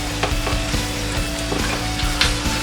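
Pork chops fry in a pan with onions, garlic and tomato juice, giving a steady close sizzle broken by light, regular clicks and scrapes of stirring.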